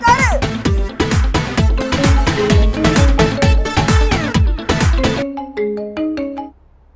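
A phone rings for an incoming call, a loud, bright electronic melodic ringtone repeating in quick rhythmic phrases before cutting to a softer tail of tones.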